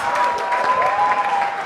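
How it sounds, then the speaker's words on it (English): Audience applauding a third grade class at a school event, dense steady clapping from many hands, loud and close for the whole short stretch. "Round of applause for our third grade class"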